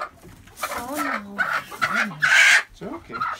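Chickens at a coop during a midnight raid, a hen giving loud, agitated clucking alarm calls in several bursts with rooster-like squawks, close by, with people talking quietly around them.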